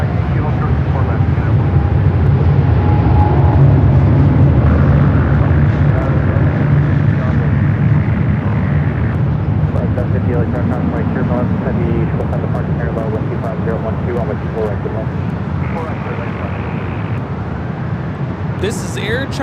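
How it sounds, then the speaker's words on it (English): Air China Boeing 777-300ER on its takeoff roll at LAX, a loud, steady broadband jet engine roar that holds strong throughout with a sustained low rumble, continuous and close. "This is Air China 988 taking off to Beijing on the 777-300ER"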